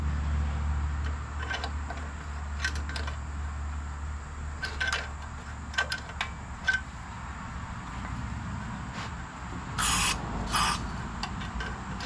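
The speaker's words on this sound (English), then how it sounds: "Maybe we'll just give it a little squirt of spray." Two short hissing bursts of spray aimed at an engine whose throttle or choke cable has just broken, close and sharp, standing out from a low steady background hum with scattered small clicks and handling noises.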